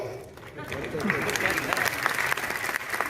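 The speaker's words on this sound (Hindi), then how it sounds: "आप ताली इसलिए बजा रहे हो" An audience claps at an RCM business talk in Palwal, Haryana, the dense clapping swelling after a quieter start and holding steady, with talk running underneath.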